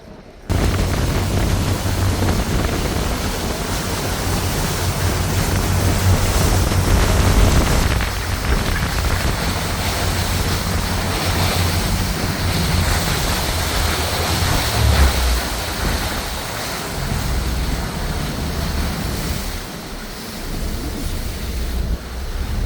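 Constant roaring rush of water falling at Spray Falls, Michigan, loud and broadband, with gusty wind buffeting the microphone.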